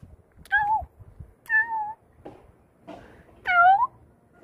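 A cat meows close by, three clear, drawn-out calls spaced about a second apart, with faint shuffling and a softer chirp between them in an otherwise quiet room.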